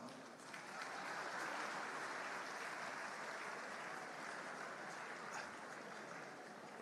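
An audience applauds at Air Peace's 10th anniversary event, a broad, sustained wash of clapping from a large crowd that holds steady throughout and sounds somewhat distant.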